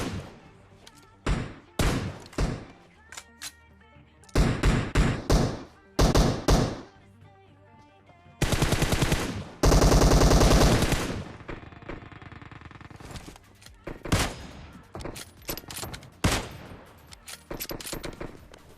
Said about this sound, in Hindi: यहाँ पर मैंने अपनी M4 की सारी एमओ खत्म कर डाली